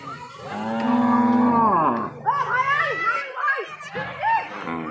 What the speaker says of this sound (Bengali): আসলে আমাদের এই গরুগুলো লোড হচ্ছে